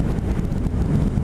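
Wind buffets a motorcycle rider with a windscreen fitted, a loud, continuous low rumble of rushing air against the microphone, no talking.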